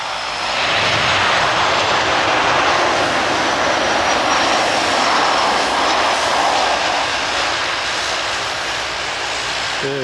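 A KLM airliner roaring past at Glasgow Airport, a loud, sustained engine rumble and whine that holds steady for the whole stretch, close and dominant with no talk.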